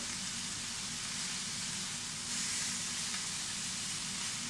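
Beef strips searing on a hot teppanyaki griddle, a continuous loud hiss and sizzle that swells slightly midway, with no speech.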